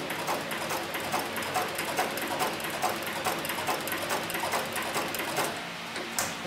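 A CowBoy 105 leather sewing machine stitching leather, a rapid, even mechanical clatter of needle strokes running steadily and close, easing briefly near the end.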